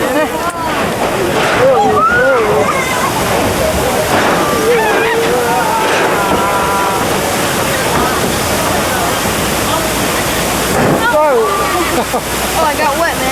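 A water effect on a Universal Studios Hollywood tram ride in 1993 sprays and splashes onto the riders, a loud continuous rushing under excited voices and a tour guide's amplified narration.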